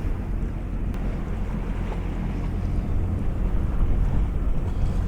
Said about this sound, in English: The wind was picking up